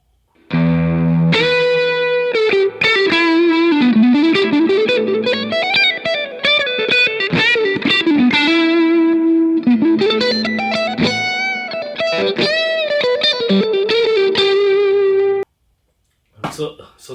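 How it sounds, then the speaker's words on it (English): A 2006 Fender 60th Diamond Anniversary American Standard Stratocaster plays through a Tube Screamer into a 1965 all-valve Super Reverb amp, giving sustained overdriven melodic lines with bends over about fifteen seconds before stopping. "signal chain is this guitar straight to a tube screamer, and from the tube screamer straight to the super reverb, 65 all valve super reverb"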